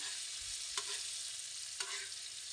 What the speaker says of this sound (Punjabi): ਚਮਚਾ ਫੇਰ ਫੇਰ ਕੇ